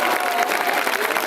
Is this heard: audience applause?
yes